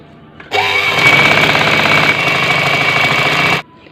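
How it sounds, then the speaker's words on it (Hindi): Sewing machine stitching along the hem edge of a plain salwar, a steady loud mechanical whirr that starts abruptly, runs continuously for about three seconds, then stops. "इसकी कन्नी पे मैं सिलाई लगा रही हूँ।"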